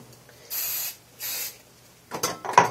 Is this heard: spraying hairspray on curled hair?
yes